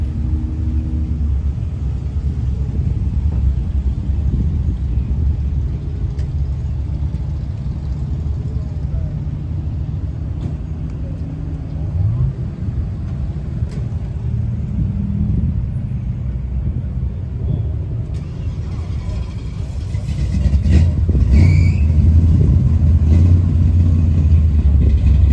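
A Studebaker car drives through the Cruisin the Coast 2024 car show in Biloxi, Mississippi, its low engine rumble running continuously over background crowd noise and swelling louder toward the end.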